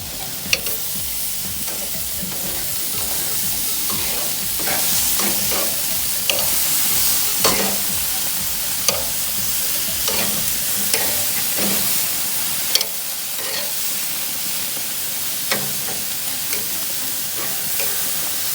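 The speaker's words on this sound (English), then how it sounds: "We're gonna flip our lamb shawarma." Lamb shawarma meat sizzling steadily on a hot flat grill, with scraping and flipping clatter from a spatula and occasional sharp metallic taps over a constant frying hiss.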